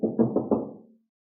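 Knocking on a door in an Urdu drama scene, four firm knocks in a quick even rhythm, close and clear with no talking.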